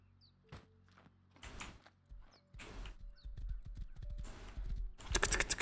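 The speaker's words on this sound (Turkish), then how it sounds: "Şurada bir atı besleyeyim." Horse hooves clip-clop in the survival game Rust, quiet irregular clusters of thudding steps with door-like knocks and faint whinnies, growing louder and closer toward the end, no speech.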